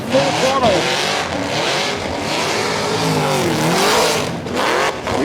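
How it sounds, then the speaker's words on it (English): A race car performs a tyre-smoking burnout skid, its engine revving and surging with throttle blips beneath continuous excited commentary. "Really playing with the throttle a lot in this skid, but he gets the tyres off"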